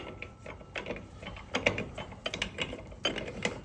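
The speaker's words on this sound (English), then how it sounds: "Now I put the main puller portion in place and I screw this down." A hub puller being screwed down onto a tapered rear axle of a pre-1946 vintage vehicle gives a run of close, fairly loud ratcheting clicks and metallic turns in uneven bursts, with no talking.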